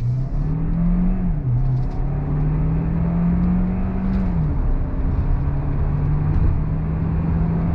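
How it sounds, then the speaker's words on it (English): A 2022 Hyundai Santa Fe Hybrid, with a 6-speed automatic, pulls away from a complete stop under throttle. The engine drone rises steadily in pitch, dips at a gear change, then climbs again and holds a strong, close, continuous hum. "I'm gonna come to a complete stop and we're gonna go on throttle."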